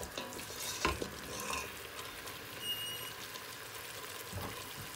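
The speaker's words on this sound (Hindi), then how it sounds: "देख रहे हैं कितना अच्छे से भून रहा है।" Mutton sizzling and frying in a pot for restaurant-style biryani, stirred with a utensil that scrapes and clinks a few times over a steady crackle of hot oil, close and moderately loud.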